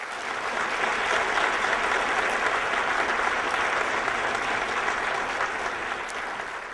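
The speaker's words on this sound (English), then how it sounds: "if we could have a big round of applause for them" A crowd applauds steadily for several seconds, a dense, sustained clapping that fades slightly at the end.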